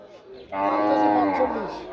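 Cattle moo at a rural cow market in Barura, Cumilla, a single loud, close, drawn-out bellow that starts abruptly and holds steady before tapering off.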